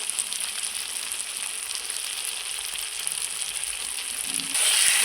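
Potato and pointed gourd curry with ghee sizzles steadily in a pan while being stirred, a continuous bright frying hiss that swells louder near the end, with no voices.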